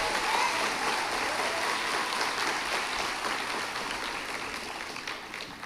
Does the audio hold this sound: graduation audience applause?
yes